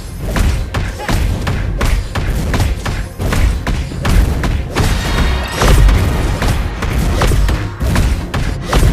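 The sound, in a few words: hero's kick hitting in Mobile Legends video game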